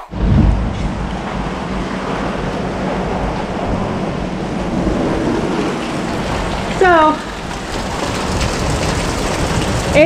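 Heavy rain pours in a dense, unbroken hiss during a thunderstorm, with deep rumbles of thunder rolling underneath; a voice briefly speaks a word over the downpour.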